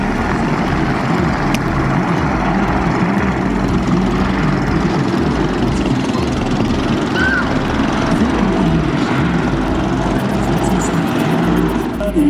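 A twin-engine helicopter lifts off from the airfield at Lübeck airport, giving a loud, steady, close rotor and engine roar that fills the whole stretch without a break.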